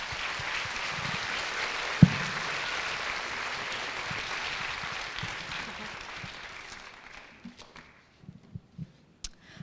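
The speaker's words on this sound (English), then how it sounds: "Please give a round of applause for Nayeli Lopez." Audience applause for a special education teacher receiving an award at a Garland ISD school awards event, a steady broadband patter that fades out over the last few seconds into scattered footsteps and small knocks.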